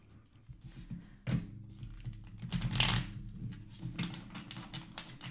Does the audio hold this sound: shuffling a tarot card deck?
yes